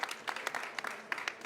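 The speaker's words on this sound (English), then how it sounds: "Round of applause, please" Conference attendees give a faint, scattered round of applause: soft, separate claps in an irregular rhythm, heard from a distance.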